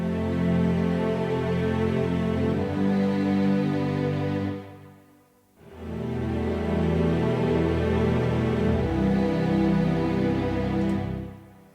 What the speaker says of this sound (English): The other element I've used is this ensemble strings.